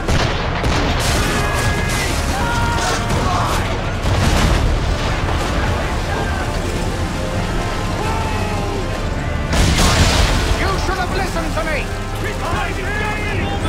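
Heavy booming ship cannon blasts and gunfire crash through dense, loud Assassin's Creed III audio, with bigger bursts near the start and again around the ten-second mark.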